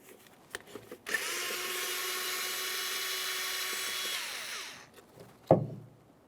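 A ratchet or power tool runs steadily for about four seconds while loosening the 7mm mounting bolts on the ignition coil pack of a 2001-2005 Ford Sport Trac XLT, then winds down and ends with a short clunk.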